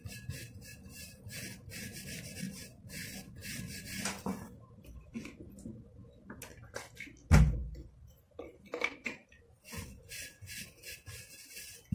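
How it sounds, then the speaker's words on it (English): Paint being rubbed onto a glass bottle for a faux marble finish: soft, close scrubbing and dabbing strokes in irregular bursts, with one sharper knock midway and quiet gaps between strokes. "The more you rub, the more color will come out. So I want it a little more lighter, so I'll rub a little more."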